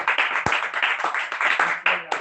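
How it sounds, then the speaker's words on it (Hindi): An audience at a religious talk claps loudly for a man in quick, rhythmic rounds of close, sharp claps that continue for about two seconds. "जोरदार ताली।"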